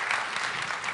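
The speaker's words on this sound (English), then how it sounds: "Everybody, give Renee a round of applause." Audience applause at a CTNX 2016 panel, a dense burst of clapping from a crowd, steady and fairly loud throughout.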